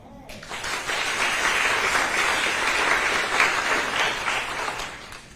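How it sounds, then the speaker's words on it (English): An audience at a community meeting about homelessness in Nashville bursts into sustained, loud applause that swells and holds for several seconds before tapering off. "Now I need a round of applause for everybody that's trying to fix this problem."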